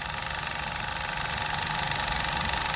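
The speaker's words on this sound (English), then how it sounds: "So now let's just spin it up at like 4 volts unloaded and see what kind of RPMs we're going at." A small electric motor spins up with no load at about 4 volts, giving a steady, even whir and hum that holds at the same level throughout, with no voices.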